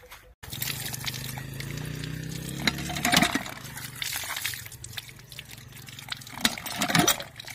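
Cucumbers are washed in water with steady sloshing and splashing, punctuated by a few clinks and knocks, close by.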